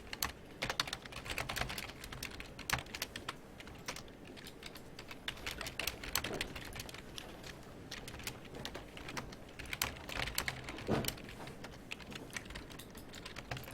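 Rapid, uneven keystrokes on a computer keyboard as code is entered, close and fairly quiet, clicking in bursts with brief pauses and no talking.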